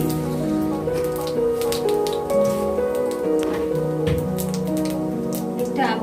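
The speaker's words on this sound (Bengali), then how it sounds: "দুটো শুকনো লঙ্কা, আর দিয়ে দিব সামান্য সাদা জিরে, আর সামান্য 3-4টা দানা চিনি" Dried red chillies, white cumin seeds and a few grains of sugar fry in hot oil, giving a steady loud crackling sizzle with scattered sharp pops and spatters.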